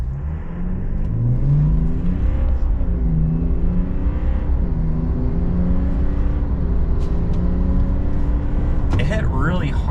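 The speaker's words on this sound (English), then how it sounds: "0 to 60 off of idle in the turbo diesel" A 2025 Chevy Silverado with a turbo diesel engine accelerates hard from idle, its engine note rising through the revs with a shift. A voice talks over it.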